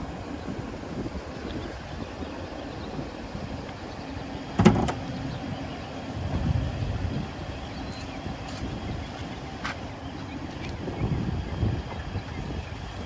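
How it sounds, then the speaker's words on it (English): A hood latch on a 2022 Ram 1500 Big Horn releases with a single sharp metallic clunk near the middle, followed by softer handling thuds, all over steady outdoor wind noise. "next we're going to go ahead and pop the hood."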